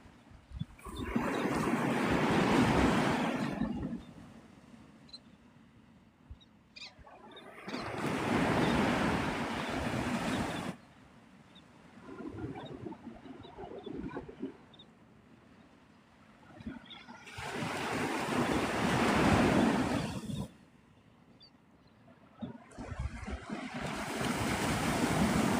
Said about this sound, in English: You can hear the waves and stuff.